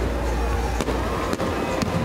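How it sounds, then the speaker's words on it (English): Fireworks over the river in Parramatta, some launched from jet skis and buildings, give a few sharp booming bursts over a dense crackling background, moderately loud and fairly distant. "Firecrackers shooting from jet skis on the river and off buildings"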